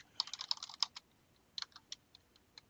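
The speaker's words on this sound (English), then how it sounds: "I'm just typing a bunch of gobbledygook inside the cells" Keys tapped on a computer keyboard while entering text into spreadsheet cells, quiet quick bursts of clicks with short pauses between.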